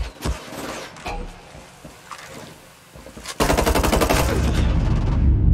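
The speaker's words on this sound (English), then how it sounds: "I hear gunfire." Sustained automatic gunfire in the PC shooter Tom Clancy's Ghost Recon Breakpoint (2019), starting with scattered shots and then breaking into a loud, rapid continuous burst that runs to the end.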